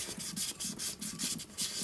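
Sandpaper held on a fingertip sanding a plate for an Epic 280 build, producing close, rhythmic rubbing strokes, about eight quick back-and-forth passes with a raspy scratch and no talking.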